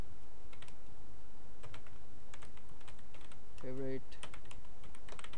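Rapid clicking of a computer keyboard as HTML code for checkboxes is typed, steady irregular keystrokes with a brief spoken word partway through.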